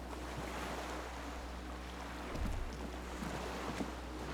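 Water laps and washes against a dock in the video game Disco Elysium, a steady low surf with wind noise and a slightly stronger swell midway, where a small skiff sways on the waves.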